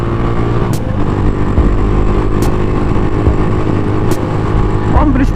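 A Mio motor scooter accelerating hard at speed, a steady loud engine drone mixed with wind and road roar, with brief sharper bursts and a voice talking over it.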